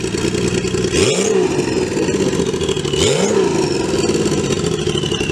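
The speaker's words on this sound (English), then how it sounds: "Do a bit of rev." A Kawasaki Z1300 Turbo motorcycle engine idles loudly and close by, then is blipped twice, each rev rising sharply and falling back to a steady rumble. There is no talk.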